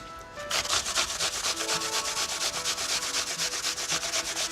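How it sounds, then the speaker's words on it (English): Two apples rubbed against a hand grater with the skins on, making a loud, steady rhythmic rasping with regular strokes close up and no talking. "Grate 2 apples."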